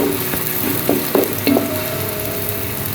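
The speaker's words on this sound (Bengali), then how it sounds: "পেঁয়াজ এবং রসুনটা ভালো মতো ভেজে নিতে হবে লালচে করে একটু ভেজে নিতে হবে" Chopped onion and garlic fry in hot oil for a Bengali hilsa and taro-stolon curry, giving a steady close sizzle broken by a few sharp clinks of a stirring spoon against the pan.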